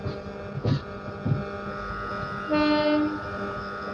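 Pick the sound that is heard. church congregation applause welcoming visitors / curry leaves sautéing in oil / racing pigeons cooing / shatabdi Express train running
shatabdi Express train running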